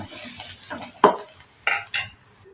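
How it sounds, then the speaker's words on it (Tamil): Onions, with small dried red chillies, sizzle in a hot pan while a utensil stirs and scrapes, a few sharp clinks standing out over the steady frying hiss. "வெங்காயம் வதக்கி எடுத்தாச்சுங்க"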